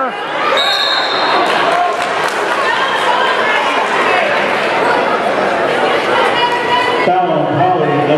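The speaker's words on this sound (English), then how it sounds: "Great crowd." A loud, steady crowd roar fills a girls' basketball championship game in a Baltimore arena, with a commentator talking over it throughout and the noise dropping slightly near the end.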